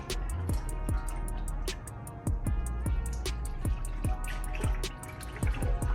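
Red car soap is stirred into water in a container, giving a close, steady series of small drips and light splashes that repeat irregularly.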